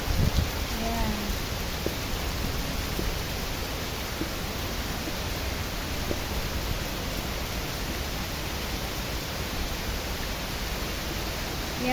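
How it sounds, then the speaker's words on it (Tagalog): Heavy rain pours steadily in a dense, unbroken hiss, loud and close, with a faint voice now and then beneath it. "Malakas pong ulan sa amin."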